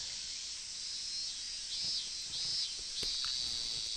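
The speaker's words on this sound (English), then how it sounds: "the noisy cries of the cicadas" Cicadas in the video game Higurashi make a continuous high-pitched buzzing drone. It is faint and steady, with slight pulsing swells and no other sounds.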